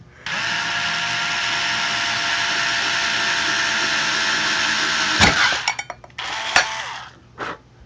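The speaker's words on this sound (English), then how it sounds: "take your drill and drill those holes out" A power drill bores holes into an aluminium can for an alcohol stove, a steady high whine for about five seconds, then a sharp metallic crack followed by brief bursts of drilling and clattering.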